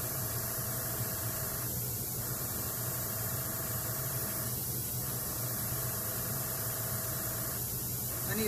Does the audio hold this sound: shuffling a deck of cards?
no